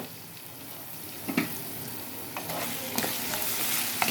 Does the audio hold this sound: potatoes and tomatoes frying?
yes